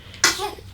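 A newborn baby's single quick sneeze, a short sharp burst heard close and fairly soft in a quiet room.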